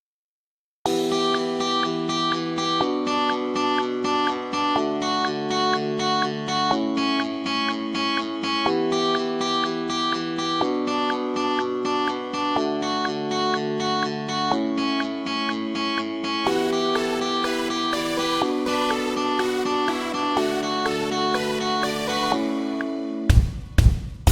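Distorted electric guitars play a steady chord progression continuously, with dense layered tones that brighten in the final stretch before abruptly stopping.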